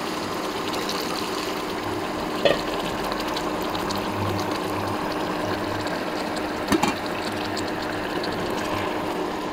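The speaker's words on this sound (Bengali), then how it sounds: "এখন গরম পানি দিয়ে দেবো" Hot water pours steadily into a pan of spinach and fish curry on the stove, a continuous close liquid rush running throughout with two brief sharp clinks along the way.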